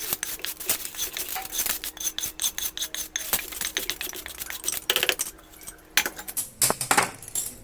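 Roasted toor dal being ground into chutney makes a close run of rhythmic rasping, scraping strokes that repeat irregularly and briefly pause near the end.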